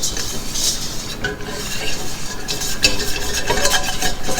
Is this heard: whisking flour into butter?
yes